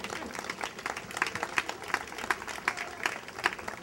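An outdoor crowd at a park festival in Longueuil applauds the mayor with steady, dense clapping heard from a middle distance, with some talk mixed in.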